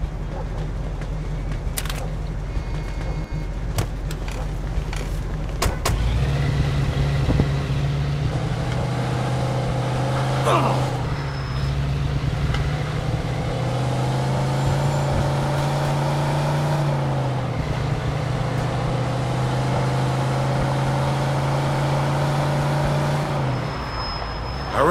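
A car engine in Mafia II: Definitive Edition revs and drones as it drives, the pitch rising and falling with gear changes, loud and steady over a long stretch.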